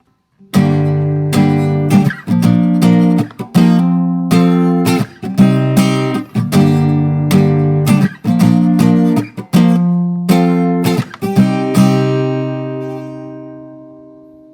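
Strummed acoustic guitar chords ring out in a steady rhythm, each strum crisp and close, ending on a chord left to ring and fade, with no voices.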